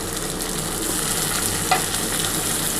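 Chopped tomato goes into onions frying in a pan, a dense, even hiss of sizzling oil with one brief stir scrape partway through, close and steady with no voices.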